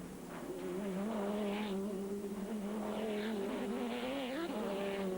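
Lister and Dodge Viper GT race cars roar past in FIA GT racing, engines droning loud and steady with rising and falling pitch as they work through a chicane, a continuous close engine howl throughout.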